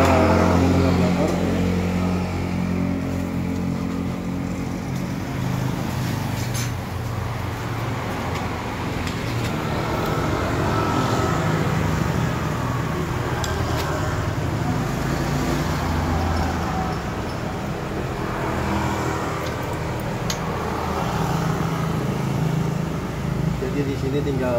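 A Yamaha F1ZR two-stroke motorcycle with a ported engine runs loudly and steadily nearby during carburetor tuning, its engine noise filling the whole stretch.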